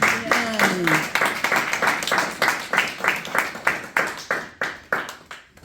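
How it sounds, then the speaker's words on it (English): A group at a planning day claps in a steady, rhythmic unison beat, each clap sharp and evenly spaced, with a brief voice heard at the very start. "Can we give them a really good round of applause?"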